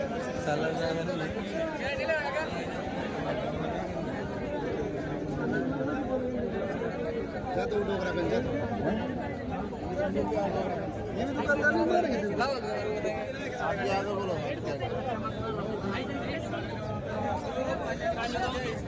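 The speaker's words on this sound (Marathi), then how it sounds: "गर्दी बघा मित्रांनो" Dense crowd chatter fills a busy village goat market, many overlapping voices forming a steady, moderately loud murmur with no single voice standing out.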